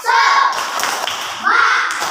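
Children in a classroom doing the rhythmic "tepuk semangat" clapping chant, claps and thumps landing in patterned bursts mixed with their shouted voices, loud and close.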